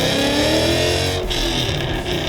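A 2015 Mustang GT fitted with a Corsa Xtreme exhaust revs hard through a gear pull, its loud, steady engine roar climbing and then dropping briefly at the shift before pulling again, close and continuous with no talking.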